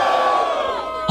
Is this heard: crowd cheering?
yes